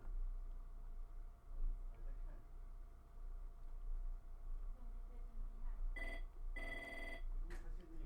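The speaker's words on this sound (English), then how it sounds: "Dang, I was hoping I can go for a full episode without a phone call." An in-game phone call ringing in Pokemon Brilliant Diamond: a few short bright electronic ring bursts near the end, faint under steady game background music.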